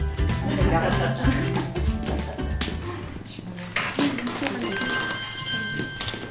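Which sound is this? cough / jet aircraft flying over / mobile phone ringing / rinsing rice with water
mobile phone ringing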